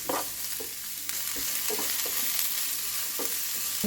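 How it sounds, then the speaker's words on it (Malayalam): Chopped onions sauté in hot coconut oil for a potato and brinjal roast, a steady close sizzle broken by several scraping stir strokes, with no talking. "വെളിച്ചെണ്ണ ചൂടായപ്പോൾ നമ്മൾ നേരത്തെ അരിഞ്ഞു വെച്ച സവാള ചേർക്കാം ഇത് നന്നായിട്ട് വഴറ്റിയെടുക്കാം"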